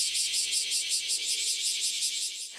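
Cicadas buzz loud and close in one continuous shrill drone, pulsing in a steady rapid rhythm before cutting off abruptly near the end.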